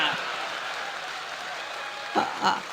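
An audience at a Hindi kavi sammelan poetry recital in Pali, Rajasthan, claps in a steady wash of applause, with a couple of brief louder bursts near the end.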